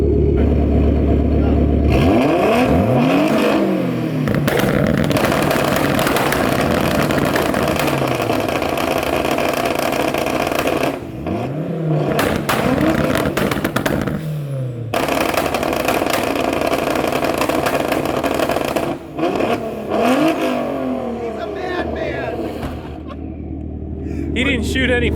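Several Mazda Miata engines rev hard at the same time in a repeated cycle of loud bursts, each rising sharply and then dropping, with short near-silent gaps between the runs. People talk over much of the noise.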